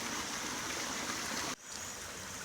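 A creek flows with a steady, moderately faint rush of water that cuts out abruptly partway through, then resumes more quietly.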